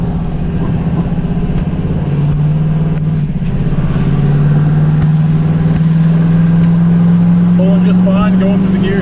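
A truck towing a loaded trailer pulls out onto a two-lane highway and accelerates through the gears, its steady engine drone rising in pitch continuously and loud throughout, with road noise underneath.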